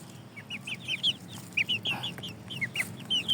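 Shamo chicks peep rapidly in high, chirping bursts, a busy cluster of small birds calling close by over faint background noise.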